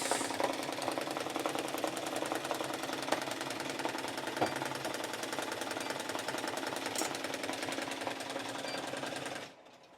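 An embroidery machine stitches a hat with 3D foam at high speed in a rapid, steady mechanical rattle, close and continuous, then suddenly stops.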